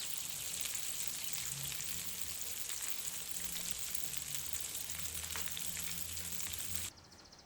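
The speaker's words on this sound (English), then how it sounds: "You can hear the sizzle and you don't really need to do much." Salmon sizzles steadily in a hot frying pan, a constant crackling hiss with occasional pops that cuts off abruptly near the end.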